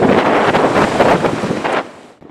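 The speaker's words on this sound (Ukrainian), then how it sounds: "дуже сильний вітер" Strong wind buffets the microphone in loud, rough gusts, then drops off abruptly near the end.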